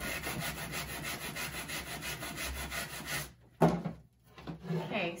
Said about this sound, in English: I'm going to be very careful sanding over it right now by holding it.